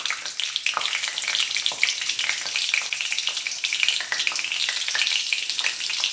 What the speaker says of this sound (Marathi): चला आता त्यानंतर मी टाकत आहे लसूण.